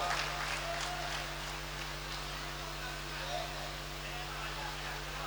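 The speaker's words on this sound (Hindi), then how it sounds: "जरा एक बार तालियां बजाइएगा।" Audience applause at an outdoor mushaira poetry gathering in Amroha, a dense, steady wash of clapping over an amplified hum, continuous and spread out from a crowd.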